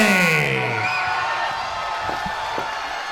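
Crowd at an HCMMA fight night event cheering, whooping and yelling for a fighter introduction, loud and sustained at first then settling into a steady roar with scattered shouts.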